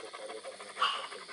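A German shepherd pants in quick, steady breaths close by, the rhythmic huffing swelling briefly louder midway with no talk over it.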